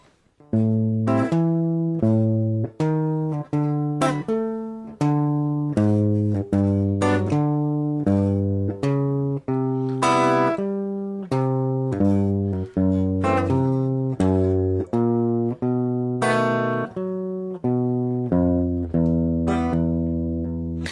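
A walking bass line steps note by note under repeating chords, played at a steady even pulse on a keyboard, loud and alone.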